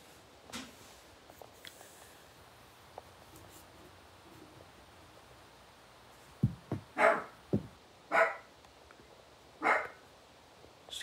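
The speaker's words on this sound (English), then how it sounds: "Excuse my dogs, guys." Several dogs bark in short loud bursts in the second half, after quieter rustling and a faint yelp at the start, with no talking.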